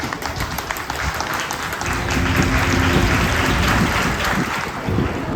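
Loud, dense applause from an audience at a cultural arts program, a steady broadband wash of many hands clapping for a ninth-grade student's story, sustained for several seconds with no talk over it.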